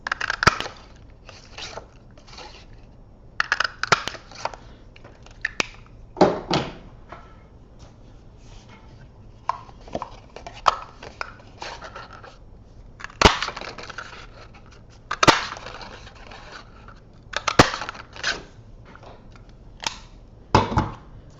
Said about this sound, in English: The last thing I'm going to do is to punch out my little trick or treat sentiments.